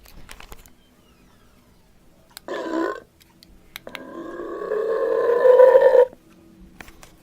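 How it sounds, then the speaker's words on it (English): A prank burp machine with a remote like a car alarm fob plays two burp sounds: a short one of under a second, then a long, drawn-out, rising belch of about two seconds, with faint handling clicks around them. "the old burp machine."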